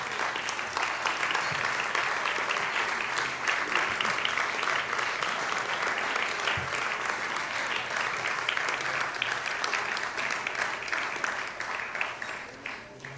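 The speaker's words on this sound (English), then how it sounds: "Would all of you please stand and receive our applause?" An audience at a women's collegiate tennis hall of fame induction ceremony applauds steadily, a loud, dense wash of clapping that holds for over ten seconds before easing slightly.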